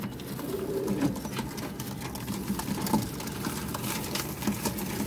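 A Cheena pigeon coos softly amid a busy, continuous background rumble with scattered clicks and rustles, the low cooing calls recurring faintly throughout with no talking.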